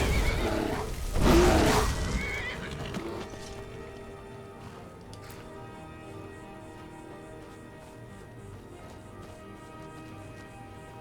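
A horse in Skyrim gives a loud, close whinny near the start, followed by quieter game ambience and faint clattering.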